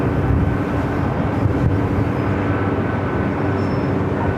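An old ex-TWA Delta Air Lines Boeing 757-200 arriving at Los Angeles airport gives a loud, continuous, broadband jet roar that holds steady throughout, with no voices.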